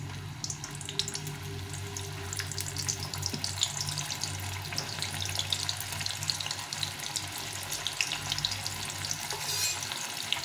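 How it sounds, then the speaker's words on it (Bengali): Homemade potato chip slices fry in hot oil on lowered heat, a dense, steady crackling sizzle that runs close and loud for the whole stretch, with no one talking. "এখন এগুলোকে ভেজে নিতে হবে।"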